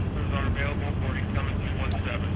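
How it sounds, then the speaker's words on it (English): Helicopter in The Walking Dead video game, a steady broadband rotor and engine drone that holds loud throughout, with speech running over it. "Except this helicopter."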